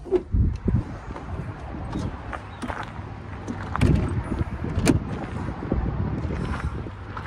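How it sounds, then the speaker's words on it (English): Strong wind in Amarillo, Texas buffets the microphone in uneven gusts, a low roaring rumble with sharp bursts of noise, loud and continuous throughout. "The winds are still crazy high."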